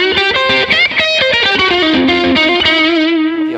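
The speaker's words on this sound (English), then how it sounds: "We give you all these different distortions." Vox modeling guitar amp playing a distorted electric guitar riff, loud and continuous, with sustained driven notes and chorded strums through modeled distortion effects.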